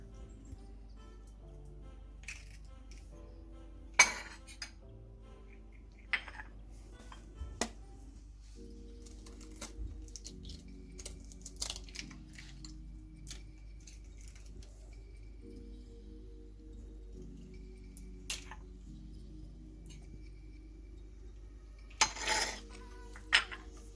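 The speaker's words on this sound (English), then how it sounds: "you're going to get the rest of the egg that's left and mix it with the 2 other eggs" Eggs being mixed in a bowl for a tuna pie, heard as light clinks and taps of a utensil against the bowl. The sounds come in sparse, uneven bursts over a low, steady background hum, with no talking.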